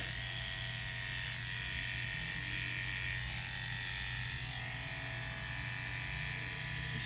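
Electric hair clippers run continuously through a zero blend haircut, cutting hair all the way down; a loud, steady motor buzz with a bright high whine holds without pause and no talking.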